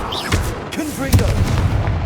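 Confringo fire spell blasts in the video game Hogwarts Legacy as loud booming impacts with a crackling burst, a voice shouting over the explosion amid busy game sound.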